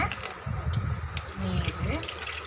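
Water poured into a cooking pot, a close continuous splashing gush running the whole time.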